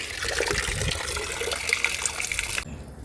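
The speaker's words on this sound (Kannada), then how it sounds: "ಹಾಗೆ ಬಂದಂತಹ ಈ ಫರ್ಟಿಲೈಸರ್ಗೆ ನಾನು ಲಿಕ್ವಿಡ್ಗೆ ನೀರನ್ನ ಆ್ಯಡ್ ಮಾಡ್ಕೊಳ್ತೇನೆ" Water being poured into a liquid fertilizer made from kitchen waste such as onion and banana peels, a steady close rushing and trickling flow that runs for most of the moment and stops abruptly near the end.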